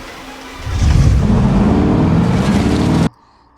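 Company car sabotaged by the robot Megan in the 2023 film, engine swelling from a low idle into a loud steady drive, then cutting off abruptly into near silence.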